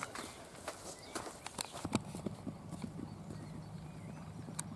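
Ponies galloping across a grass paddock at a riding facility, a fast drumming of hooves at moderate distance with a brief whinny, heard on their own without talk.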